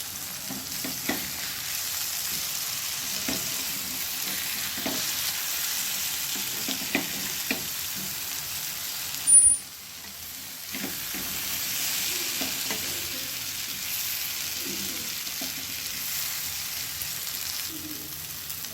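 Mushroom tikka frying on a tawa griddle: a steady close sizzle with occasional stirring scrapes and one brief louder knock midway, no talk.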